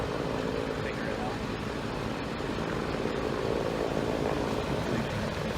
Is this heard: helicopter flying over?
yes